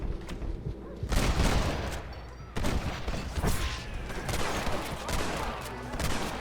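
Gunfire in the Red Dead Redemption video game crackles in dense, loud volleys of overlapping shots and booms, with sharp bursts around one and two and a half seconds and sustained firing afterward.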